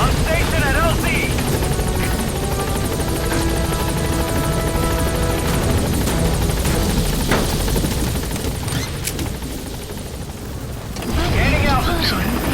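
B-Quad helicopter arriving at a landing zone in Metal Gear Solid V, a loud continuous rotor thrum and engine whine close by, with radio chatter and game sounds layered over it.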